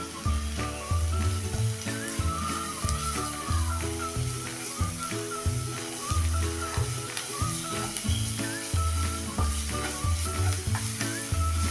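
Garlic, finely chopped green chili and ground cumin frying in a pan for a fenugreek pithla, a steady close sizzle with occasional stirring scrapes, continuous throughout, backed by music.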